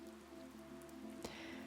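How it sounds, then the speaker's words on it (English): Steady rain pattering on a surface fills the background at a soft level, mixed with gentle music, with one brief louder tap near the end. "just to create a nice ambience with music and rain"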